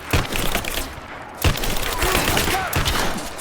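Gunfire from the video game Rise of the Tomb Raider comes as dense, continuous bursts of shots with sharp cracks and impacts, loud and busy throughout.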